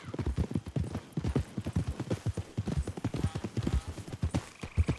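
Horse hooves clip-clopping at a steady trotting rhythm in the video game Red Dead Redemption 2, loud and close throughout, with a brief whinny-like sound mixed in.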